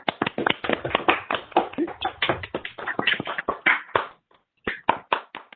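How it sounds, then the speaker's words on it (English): Scattered applause from a small online meeting group after a talk on solving the many-electron Schrödinger equation with deep neural networks, a few people clapping unevenly and close up, with brief gaps before the last claps. "a nice round of applause"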